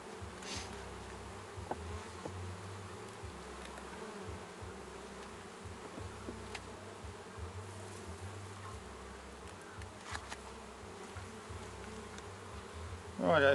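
Honeybees buzzing around an open hive during an inspection, a continuous low hum of many insects with occasional nearer passes and small knocks of frames and handling.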